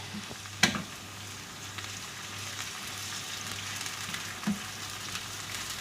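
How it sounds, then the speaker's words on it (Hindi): Garlic ginger paste fries in a pan for chicken biryani, giving a steady low sizzle with a couple of sharp spatula clinks and scrapes. The sound stays faint and even throughout, with no talking. "लहसुन अदरक को अच्छी तरह भूनिए ताकि उसकी स्मेल ख़त्म हो जाए"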